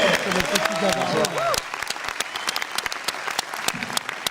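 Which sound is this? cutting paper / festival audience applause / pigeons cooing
festival audience applause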